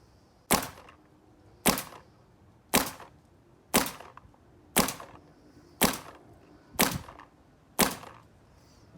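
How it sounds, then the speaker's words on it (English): Eight sharp, evenly spaced shots from a Field One Force paintball marker, each a loud crisp pop about a second apart, with a short decay and little else in between. "let's go ahead and listen to the sound signature of this marker"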